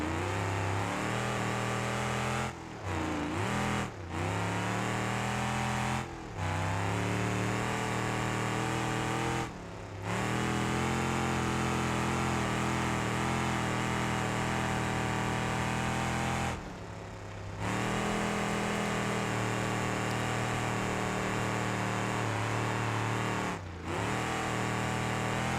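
Truck engine in the BeamNG.drive video game revs and drones while drifting on dirt, a sustained loud mid-pitched roar with rising and falling revs and several brief cuts throughout.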